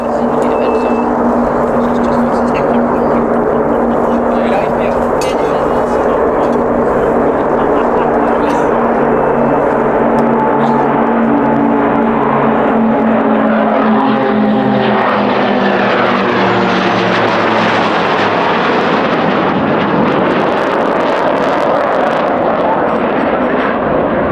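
A Pilatus PC-7 turboprop at an air-show aerobatic display drones loudly and steadily, its propeller pitch sliding lower as it passes, with further aircraft noise swelling toward the end; a commentator talks over it.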